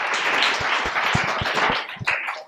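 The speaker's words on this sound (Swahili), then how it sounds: "Chuku, makofi mpigie." Students in a school classroom clap for a classmate, a short burst of brisk, uneven applause close by.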